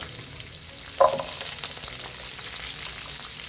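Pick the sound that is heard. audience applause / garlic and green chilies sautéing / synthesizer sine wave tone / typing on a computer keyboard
garlic and green chilies sautéing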